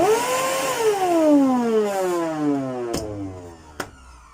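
A Samsung vacuum cleaner with a suspected motor imbalance runs up loud and close, its whine sliding steadily downward in pitch as it winds down, ending with two sharp clicks.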